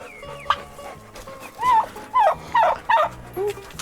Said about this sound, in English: That's a game hen.